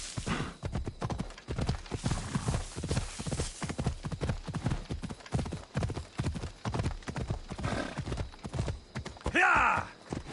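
A horse galloping in a PS4 video game, its hooves making a fast, rhythmic clip-clop that drives on steadily, with a brief whinny near the end.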